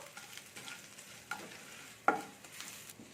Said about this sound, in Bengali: দেড় চামচের মতো আমি চিলি ফ্লেক্স দিয়ে দিচ্ছি দিয়ে এটাকেও আমি একটু ভেজে নেবো